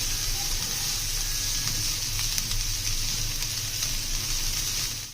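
Steady, close sizzling of chopped onions sautéing in a hot pan, a continuous crackling hiss with no talking.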